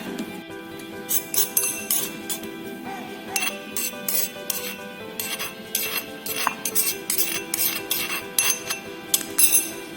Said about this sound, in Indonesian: Kemudian kita haluskan di mortar.